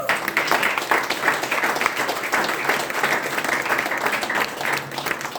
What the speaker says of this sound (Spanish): Dale un aplauso al que dice.